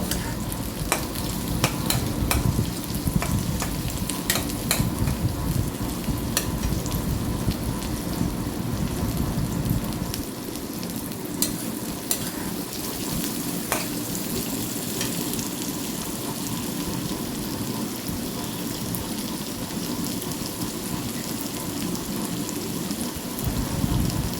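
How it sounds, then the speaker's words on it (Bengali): Prawns fry with onion in a pan, a loud continuous hiss and crackle of hot oil that fills the whole stretch at a steady level, with occasional stirring clatter. "চিংড়ি মাছটা পেঁয়াজের সঙ্গে ভেজে নিব"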